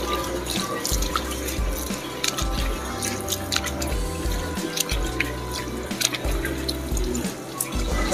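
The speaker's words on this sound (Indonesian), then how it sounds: "lalu kita angkat dan akan kita bilas kembali dengan menggunakan air bersih" Water runs steadily from a tap as aglaonema leaves are rinsed with clean water, with splashing and dripping throughout and a low hum underneath, no voices.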